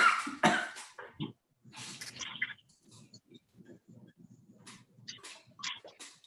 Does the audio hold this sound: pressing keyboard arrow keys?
no